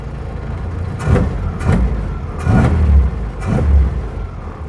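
An Austin A35 van engine starting and revving, loud and close, with four repeated throttle blips swelling and falling over a steady idle rumble and no talking.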